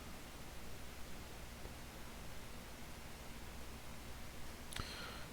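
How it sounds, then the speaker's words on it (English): Steady, quiet white noise hisses evenly in the background throughout, with no talk, apart from one faint click near the end. "White noise to keep in the background so you don't fall asleep while making the bed."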